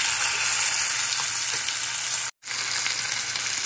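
Sliced onion and garlic coated in turmeric and chili hit hot oil left over from frying fish for a boal catfish recipe, giving a loud, dense, continuous sizzle with a brief drop partway through.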